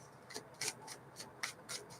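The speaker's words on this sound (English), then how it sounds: "can you not see me shuffling 43 minutes later?" Playing cards being shuffled, soft quick riffling bursts repeating at a fairly even pace, quiet and close with no talk.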